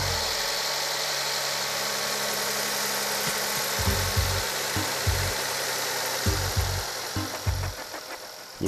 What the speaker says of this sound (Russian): Всегда первый запуск, пока маслом не наполнится муфта, это все гремит.